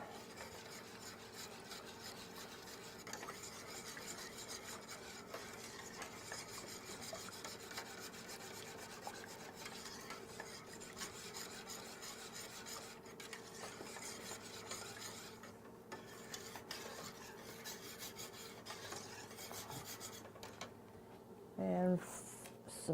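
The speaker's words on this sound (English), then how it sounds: "Whisk it in." A whisk stirs and scrapes ingredients around inside a pot in a steady, continuous rubbing rhythm, close and moderately loud, with faint kitchen background and a brief clatter near the end.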